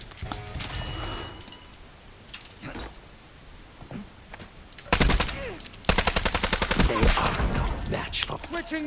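Rapid automatic gunfire bursts in the game Warzone, loud and close, with sustained rattling volleys in the second half after sparser shots and game sounds early on.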